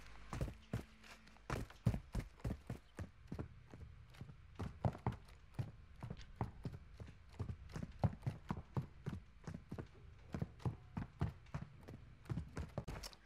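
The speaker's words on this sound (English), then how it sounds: "I hear footsteps around there." Footsteps in Call of Duty: Warzone 2.0 with an MP7 loadout: a steady run of sharp, clopping steps, close and fairly loud, repeating rapidly for several seconds with no talk over them.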